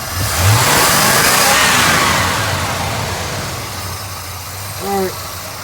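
A carbureted engine with a low idle, just after a carburetor adjustment, rises into a hard full-throttle rev and then slowly winds down, with a short blip near the end. Nearby voices are heard.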